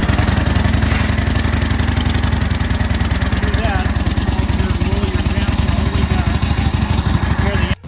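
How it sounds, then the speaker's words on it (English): A WWII military motorcycle's 45 cubic inch 750 cc side-valve engine runs close and loud, a steady rapid thumping idle with mechanical clatter throughout, ending abruptly. "Its 45 cubic inch or 750 cc side valve engine"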